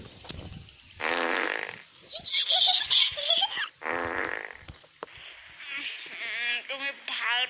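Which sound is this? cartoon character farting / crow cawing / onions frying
cartoon character farting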